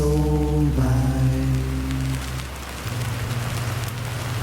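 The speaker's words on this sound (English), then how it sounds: "Rain poured heavily on the streets of the quiet town of Willow Creek, Vermont. Distant thunder cried out." Heavy rain falls on the streets of a quiet Vermont town as a steady wash of noise, heard under sustained musical tones that shift and fade, with no clear thunder.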